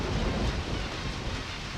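Heavy rain pours steadily with a deep rumble of thunder rolling underneath in the video game Deadly Premonition Origins, a dense, continuous wash of sound with no voices.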